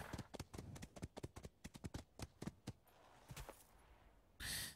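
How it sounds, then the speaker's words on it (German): A horse's hooves clip-clopping in the video game ATLAS, a quick run of crisp, close hoofbeats that thins out into a few scattered steps before a short burst of other game noise. "Ich will der Pferd die ganze Zeit Johnny nennen"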